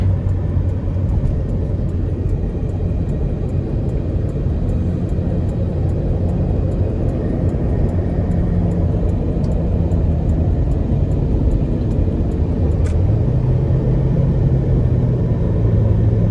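A 2008 Corvette Convertible 3LT Z51 accelerates hard on the road, its engine a loud, steady, close-up roar that holds for the whole stretch and shifts pitch near the end.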